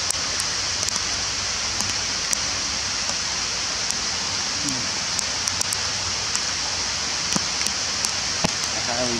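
Steady rain falls outdoors where a bald eagle is perched, a constant broadband hiss with scattered sharp drop ticks, loud and close throughout with no voices.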